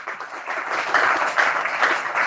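Church congregation applauding during a French-language sermon, a steady wash of many hands clapping that swells in waves, fairly close and continuous throughout.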